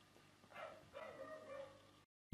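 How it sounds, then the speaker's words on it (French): A dog barks and yips faintly in the background, a few short distant calls heard behind a quiet indoor room tone. "Il va fermer sa gueule ce chien de merde."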